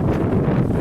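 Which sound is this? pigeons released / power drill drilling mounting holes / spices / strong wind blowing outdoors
strong wind blowing outdoors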